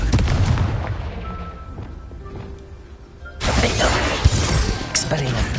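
Confringo blasting curse from a Harry Potter spell duel, a loud close explosive burst with crackling debris, then a second sustained blast after a quieter stretch, with a voice in the mix.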